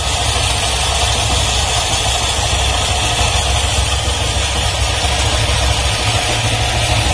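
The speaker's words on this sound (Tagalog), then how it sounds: "Ang naririnig ko ngayong andar parang hagas-has" A Honda Click 125i scooter runs at idle with a constant engine drone and a rough, scraping hiss from the CVT belt, loud and close throughout.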